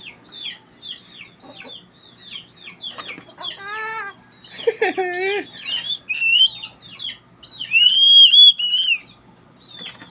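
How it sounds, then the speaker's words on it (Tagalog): A bird whistles repeatedly in bright, rising and falling tones, with short chirps in between and a few louder warbling phrases near the end. "Galing talaga sumipol ni Moy Moy, ah."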